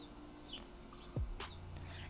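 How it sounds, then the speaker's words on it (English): Birds chirp outdoors in short, high, scattered calls. They are faint and come from a distance, with a soft low hum of background noise beneath them. "y'all can hear these birds chirping"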